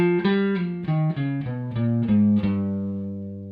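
A run of plucked guitar notes descending one by one through the Super Locrian mode, eight or so clean tones ringing out, the last note sustaining and fading.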